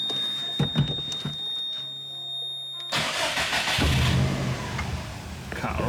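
A Subaru fitted with a turbo timer cranks and fires up, its engine catching about halfway through after a quiet stretch with a steady electronic beep, then running loud and close.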